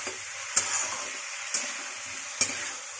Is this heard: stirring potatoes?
yes